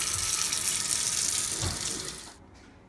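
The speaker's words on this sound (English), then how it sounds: "I'm going to go ahead and turn on my water" Water runs steadily from a sink tap while ceramic pans are being cleaned, a close, continuous broadband rush that cuts off abruptly near the end.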